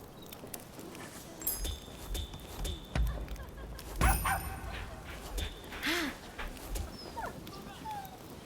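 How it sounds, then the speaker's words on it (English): Dog in Rise of the Ronin whimpering and giving short yips and barks amid ambient game sound, scattered irregular bursts at moderate distance, with speech likely occurring alongside. "Hey, the doggy's back."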